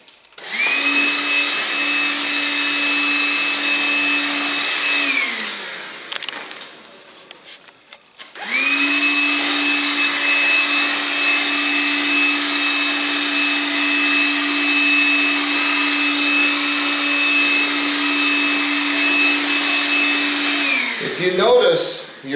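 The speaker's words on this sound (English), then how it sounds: "it's time for some vacuuming again" A vacuum cleaner runs loud and steady with a high whine, cuts out for a few seconds, then starts up again and drones on before switching off, used during work on a reloading bench build.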